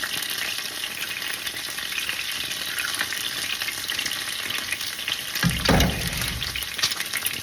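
Large whole eggs sizzle in oil in a pan of Vietnamese fried rice cake with green onion, a steady crackling fry with a louder burst of spattering near the end, no talking.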